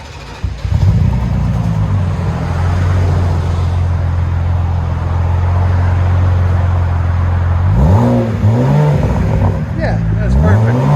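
BMW Z4 with a 3.0L inline-six and Vibrant resonator exhaust, first a loud steady idle drone, then two sharp revs that rise and fall near the end, close to the tailpipe with faint talk in the background.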